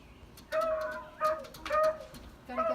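A rescued, hungry small bird calls indoors, giving a few clear tonal coos in separate bursts with short gaps between them. The calls are close and moderately loud over a quiet room.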